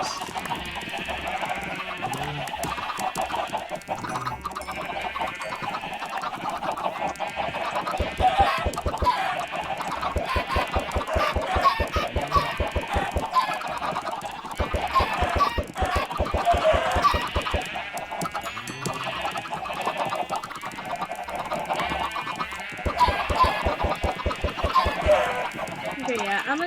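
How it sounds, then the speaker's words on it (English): Video-game chickens on a farm being bred with seeds, clucking again and again in quick, rhythmic bursts, loud and near, with a voice talking now and then. "I'll start to actually feed the chickens once"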